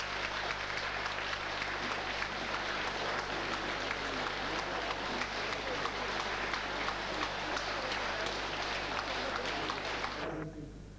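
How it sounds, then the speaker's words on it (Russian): Stormy, dense applause from a concert audience greeting a Soviet Ural singer, a loud, continuous roar of many clapping hands that holds steady and then cuts off abruptly at the end. "Бурные аплодисменты!"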